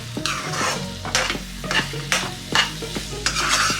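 Sweet pumpkin halwa is stirred in a pan with repeated scraping strokes, about one a second, over a soft background sizzle, close and with no voices.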